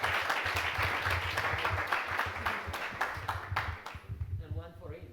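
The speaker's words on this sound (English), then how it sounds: "Another round of applause." A conference audience at a web developers' event claps in a full, close round of applause that thins out near the end as a voice starts speaking.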